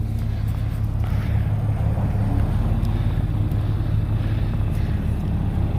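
Tractor engine idling and rumbling as it backs up to a New Holland 357 grinder mixer outdoors, a steady low drone with wind buffeting the microphone throughout.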